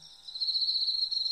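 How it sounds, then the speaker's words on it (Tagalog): Crickets chirp in a steady, continuous high trill at night, fairly close and alone with no voices. "Walang ibang ingay kundi ang kuliglig at hampas ng hangin"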